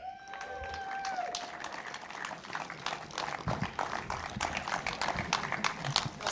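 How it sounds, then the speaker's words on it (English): Applause from a karting crowd at a British Kart Championship meeting at Warden Law, greeting the Honda Cadet rookie trophy winner; steady, moderate clapping outdoors with some background clatter, continuing for several seconds. "round of applause please"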